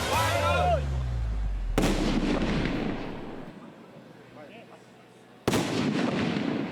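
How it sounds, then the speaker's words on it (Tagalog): An illegal "Goodbye Philippines" firecracker explodes in a single loud, sharp blast near the start. A long rumbling decay follows. A second heavy bang comes near the end, with voices faintly underneath. "Ganito kalakas ang pagsabog ng paputok na Goodbye Philippines."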